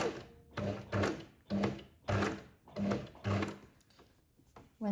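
Sewing machine stitching a shirring channel on a fabric bow top, whirring in several loud bursts of stitching separated by short pauses, close up, with no voices.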